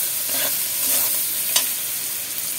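Masala seasoned with Kashmiri chili powder is stirred and fried in a pan: a steady close sizzle with a few scraping strokes of the spoon, no voices.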